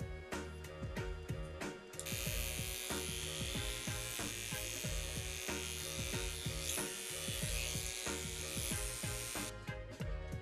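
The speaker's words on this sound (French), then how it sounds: "J'ai un rasoir électrique." A loud, close electric razor buzzes steadily, its tone shifting as it cuts through head hair, with brief pauses and clicks at the start.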